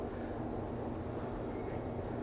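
An inclinator, a slow funicular-style car in Midtown Manhattan, rumbles steadily as it travels downward, with a continuous low mechanical drone and faint rail-like resonance throughout.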